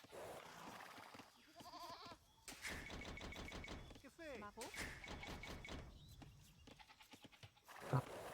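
Sheep in an Age of Empires 2 match bleat several times over a continuous layer of game sound, with short wavering calls clustered in the middle and one sharp click near the end.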